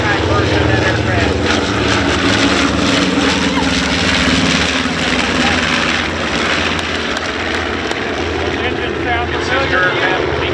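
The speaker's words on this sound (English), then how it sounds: "right now, that's the PB4Y, the maritime version of that aircraft" A PB4Y maritime patrol bomber, the naval version of the twin-tailed B-24, drones overhead at an air show with a loud, steady multi-engine propeller roar that fills the whole stretch.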